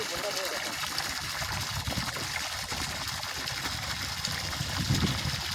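Water gushes into a rural open well in a continuous, even rush, with a low mechanical hum underneath and faint voices in the background.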